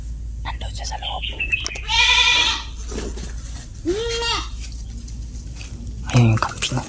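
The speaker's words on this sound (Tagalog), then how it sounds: "Ayun yung kambing." Goat in a horror video game bleating in a couple of loud, wavering calls close by, set against game ambience with a voice speaking in between.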